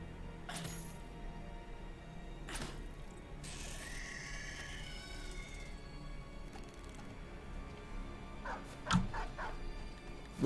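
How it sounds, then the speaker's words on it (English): A dog barks in the video game Battle Brothers, with a few scattered yips and barks over a low game ambience, one louder bark near the end. "Woof woof to the rescue."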